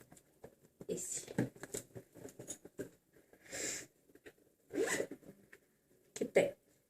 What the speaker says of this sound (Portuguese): Agora vamos pro zíper de fora.